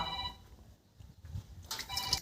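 A telephone rings faintly in a rural Haryanvi home setting, a thin electronic ring that rises brighter toward the end over low background noise.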